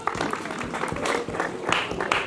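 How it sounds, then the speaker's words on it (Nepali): Audience applause rolls through the crowd at the closing ceremony of a village volleyball cup in Nepal, a fairly faint, steady spatter of many hands heard from a distance. "जोरदार तालीले सम्मानित गरिदिनु"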